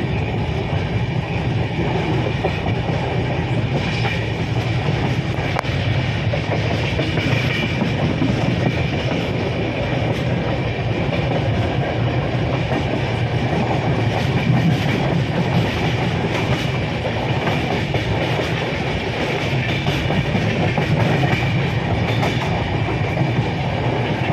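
A Sealdah-Dankuni local train at Dakshineswar station gives a steady, loud rumble with rail clatter and wheel noise that runs unbroken through the whole stretch.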